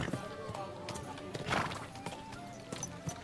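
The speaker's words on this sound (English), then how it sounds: "Horsey." Horse hooves clip-clopping in the video game Kingdom Come: Deliverance II, an uneven run of close hoof knocks with a brief whinny-like burst midway and faint background sounds.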